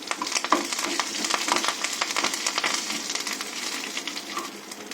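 Mustard seeds, cumin, dried chillies and curry leaves frying in hot oil for a tempering, a close, steady sizzle scattered with small pops and crackles.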